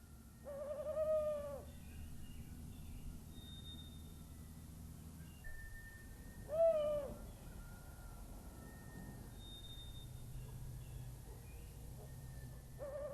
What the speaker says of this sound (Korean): 올빼미 부부가 번갈아 사냥을 하지만 맹렬하게 자라는 새끼의 성장 속도를 따라가기가 벅차다.